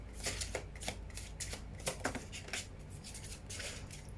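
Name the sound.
shuffling tarot cards to draw one card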